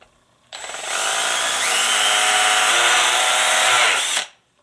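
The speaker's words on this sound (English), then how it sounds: "all I need is a pretty small drill bit" A small drill bit bores into the narrow plastic spout of an oil smoke kit for an RC 6x6 semi truck, a steady high-pitched whine running about four seconds and stopping abruptly, close and loud with no talk.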